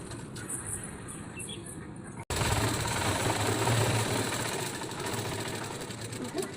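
A sewing machine stitches a dress petticoat with a steady, close mechanical whir that pauses for a split second, then resumes louder and continuous.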